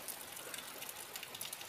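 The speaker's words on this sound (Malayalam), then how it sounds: "മഴ ഉണ്ട്, പുറത്ത് നല്ല മഴയാണ്, നല്ല ഇരുട്ടും മഴയും." Heavy rain falls outside a window in the dark, a steady, even hiss of drops heard faintly and at a distance with no voices.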